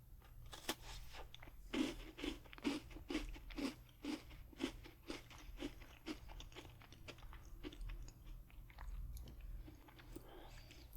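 Close, crisp crunches of someone biting and chewing a chocolate-covered butter cookie with a hint of lemon, a quick rhythmic run of bites that slows into softer, scattered chewing in a quiet room.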